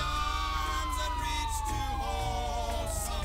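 A wailing alarm siren in the video game GTA V, sweeping slowly in pitch over a steady low engine-like drone, with faint game sounds behind it; continuous and moderately loud, no speech.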